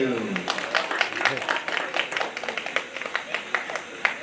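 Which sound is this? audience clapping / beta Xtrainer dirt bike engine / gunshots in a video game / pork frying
audience clapping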